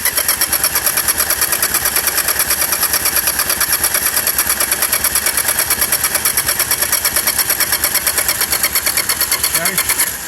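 A race car engine in a racing shop is cranked over, a loud, rapid, evenly pulsing mechanical churn that runs steadily for about ten seconds before cutting off.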